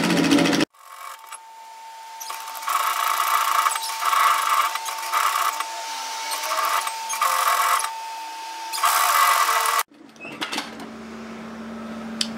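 A sewing machine stitches a seam in fabric in several short bursts of fast mechanical whirring, separated by brief pauses, with a steady tone underneath and a faint click as it stops.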